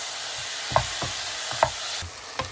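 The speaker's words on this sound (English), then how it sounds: "It's just the natural fat in the bacon cooking it." Bacon sizzling in its own rendered fat in a pan, a soft steady hiss broken by a few light knocks of a utensil against the pan.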